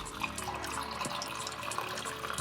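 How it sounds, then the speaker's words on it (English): Brewed coffee poured from a Chemex into a mug held about a foot below, making a steady, close splashing stream of liquid that runs for the whole stretch with no voices. "dripping your mug a foot away from your Chemex actually does make the coffee taste better"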